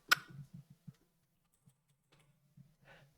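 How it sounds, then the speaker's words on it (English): Scattered keystrokes on a computer keyboard: a sharp first click, then a handful of soft, irregular taps with pauses between them, quiet and close. "now I'm reaching over to my Twitch chat keyboard"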